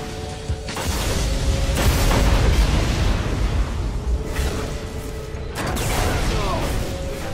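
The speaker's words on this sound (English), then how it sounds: "throws his grenade and picks up 5 kills like a boss" A grenade blast in the Destiny multiplayer game, with a loud booming explosion and rumbling debris in the opening seconds, then a second burst, with game voices underneath.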